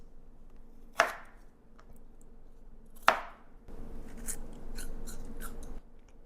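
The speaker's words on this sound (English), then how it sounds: "Just so you can hear how crunchy this is." A kitchen knife chops through raw, crunchy jicama for a fruit salad: two crisp, loud chops a couple of seconds apart, close up, followed by softer handling and scraping on the cutting board.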